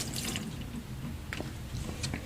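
Water being poured into a Magicfly Janoel 12 egg incubator, a close splashing trickle with a few drips near the end.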